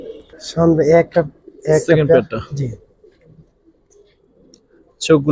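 Giribaz pigeons of an old pure breed cooing in short bursts of low, throaty coos, close and fairly loud, with a quiet pause before another coo near the end.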